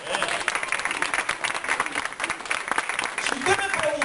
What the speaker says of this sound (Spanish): Yo quiero que usted le da un aplauso al Señor.